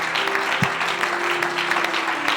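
A church congregation breaks into sustained applause, a dense wash of many hands clapping steadily and loudly for the whole moment, with no clear voice rising above it.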